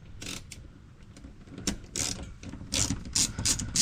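Plastic 24mm bolts being unscrewed from the rear of a 2024 VW Jetta S underbody panel, close, loud ratcheting clicks in repeated bursts with short pauses between them.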